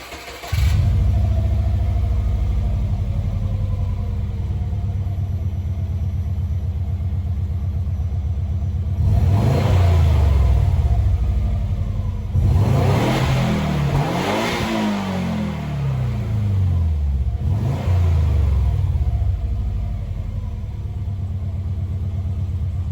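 A Subaru B4 fitted with a newly installed muffler idles with a steady low rumble, then revs several times in rising and falling pulls, moderately loud and close.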